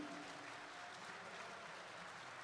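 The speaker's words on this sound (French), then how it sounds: "je voudrais qu'on l'applaudisse surtout" Steady, dense applause from a convention audience at a One Piece talk during the Toulouse Game Show, a continuous wash of many hands clapping at moderate distance, fairly quiet and unbroken throughout.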